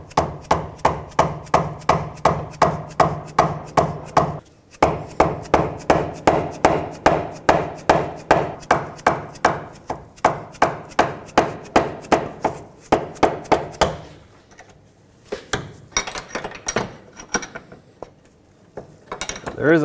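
An 18mm wrench works a control arm bolt loose on a 2007-2009 Saturn Aura, a long run of rapid, evenly spaced metallic clicks close by that pauses briefly, then slows to scattered clicks near the end.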